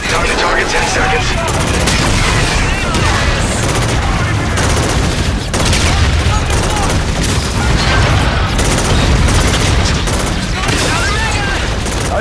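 Aircraft gun run in the video game Call of Duty: Infinite Warfare, a dense, loud continuous roar of rapid gunfire and explosions filling the whole stretch, with voices talking through the chaos.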